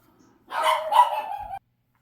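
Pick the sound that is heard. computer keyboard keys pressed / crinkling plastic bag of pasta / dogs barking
dogs barking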